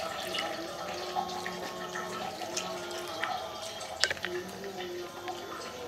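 Water trickling and splashing from a tap into a bowl of gram flour batter mixed with baking soda in a home kitchen, a faint steady pour with small drips and one brief louder splash.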